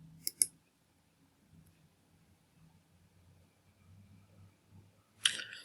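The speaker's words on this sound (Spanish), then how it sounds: "Hacemos clic en flujo de trabajo" Computer mouse clicks sound while working in an OJS journal-system workflow panel: a quick pair of sharp clicks near the start and another crisp click at the end, close and quiet over a faint low murmur.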